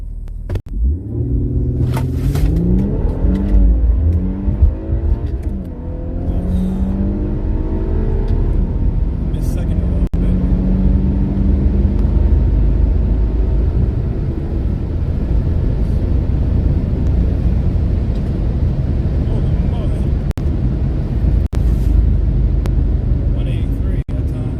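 An Infiniti Q50 fitted with a drag pack revs hard and accelerates down a quarter-mile drag run, a loud continuous engine roar rising through gear changes, with rumbling wind and road noise filling the cabin throughout.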